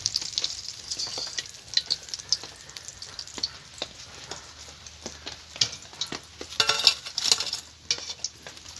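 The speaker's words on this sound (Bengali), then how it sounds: "দেখুন আমি লাল লাল করে ফিঙ্গারগুলোকে ভেজে নেব" Lote (Bombay duck) fish fingers deep-fry in hot oil in a pan, giving a continuous crackling sizzle with irregular pops, spits and occasional clinks of a utensil close by.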